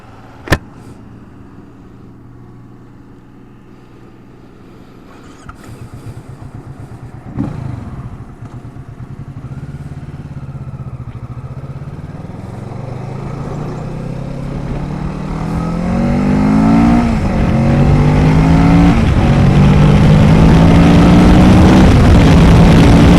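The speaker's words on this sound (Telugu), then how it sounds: "ఆ తర్వాత ఎగ్జాస్ట్ రౌండ్ వీడియో పెడతాను" A 2019 Kawasaki Ninja 650 motorcycle engine and exhaust rev up steadily, pitch climbing through the gears toward the 6000 RPM shift point, growing loud and close with no talk.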